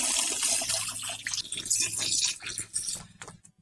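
A garden hose sprays water onto aloe plant roots to rinse away soil, a rushing, splashing stream that is steady and close, with uneven bursts as the spray shifts, before cutting off near the end.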